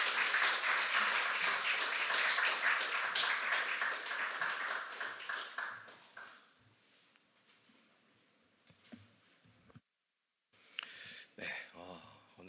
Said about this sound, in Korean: 우리 김준영 강사님 박수로 환영하겠습니다